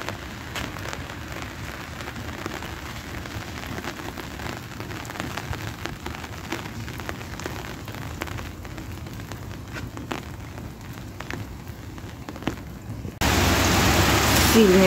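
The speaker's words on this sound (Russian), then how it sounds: "Сильный дождик" Steady heavy rain pattering on surfaces, a continuous close hiss of drops, with a louder burst of noise near the end.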